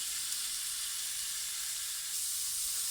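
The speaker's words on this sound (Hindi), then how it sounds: "पाँच मिनट तक हम इनको रोस्ट करेंगे" Kofta noodle mixture roasting in a pan, giving a steady, even sizzle and hiss close up with no talking.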